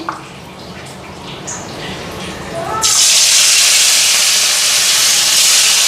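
A quiet kitchen background gives way to a sudden loud, sustained sizzle as chicken hits hot oil in a wok, hissing steadily from then on.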